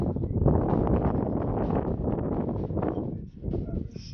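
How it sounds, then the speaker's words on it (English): Wind gusts rumble steadily across the microphone outdoors during an e-bike ride in a wind of roughly 7 mph, a dense low roar that swells and dips for a few seconds with no clear talk. "there's a bit of a wind today"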